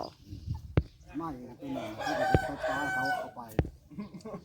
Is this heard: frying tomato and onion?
no